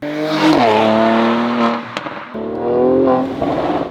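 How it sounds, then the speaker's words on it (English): A Mercedes-AMG C43 Cabriolet engine with the AMG Performance exhaust roars loudly up close, revving hard, cutting off abruptly midway, then surging again with a deep, throaty exhaust bark. "this car is equipped with the AMG Performance exhaust, so it is even louder than normal"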